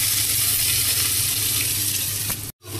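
Cumin, garlic and chopped onion fry in hot oil in a clean kadhai, a steady close sizzle that crackles on without a break before cutting off abruptly near the end.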